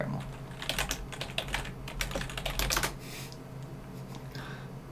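Fast, continuous clatter of computer keyboard keys during a gaming session, close and busy at first, then fading to a quiet hum after about three seconds.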